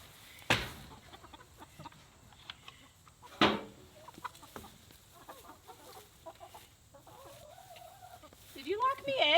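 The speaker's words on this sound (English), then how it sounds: "we have new chickens" Newly acquired backyard chickens clucking softly at close range, with a couple of sharp loud knocks and bits of talk from people nearby, ending in rising higher calls.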